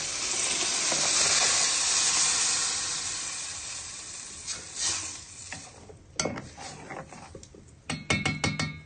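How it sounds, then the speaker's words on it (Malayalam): Ground spice paste for a sardine fish curry hits a hot pan with a loud, steady sizzle and hiss, then quietens while the paste is stirred. Sharp clicks and scrapes of a spoon against the pan come through near the end. "നമ്മൾ അരച്ചു വെച്ചിരുന്ന അരപ്പ് അതിലേക്ക് ഒഴിച്ചു കൊടുക്കുക"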